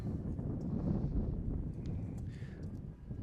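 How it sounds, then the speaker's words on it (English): Wind gusts across an outdoor softball field on a sunny afternoon, a loud, low rumbling buffet against the microphone that persists throughout with a few faint distant sounds behind it. "You can hear the breeze. It is very windy here coming in"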